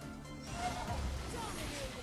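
A horse neighs in the mobile battle game RoV, a short whinny mixed into busy gameplay effects while a player talks over it.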